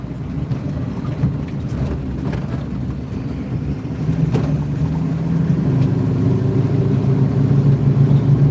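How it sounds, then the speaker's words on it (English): A boat engine runs with a steady low drone that deepens and grows a little louder partway through, its hum continuing unbroken under faint background noise. "I just want to kind of open up, let the engine run."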